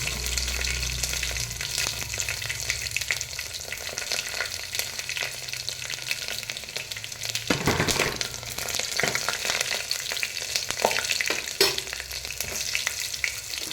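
Curry leaves, dry red chillies and garlic crackle and sizzle in hot oil, a steady close frying hiss broken by sharp spits and pops, with no talking.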